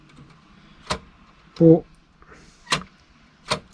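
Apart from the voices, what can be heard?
Fleischmann 6476 model engine shed door being pushed shut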